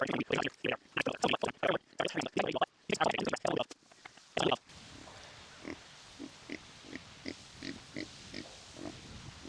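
Pasture pigs on a small farm grunt in short, rapid bursts up close, then a quieter stretch of softer, evenly spaced grunts follows.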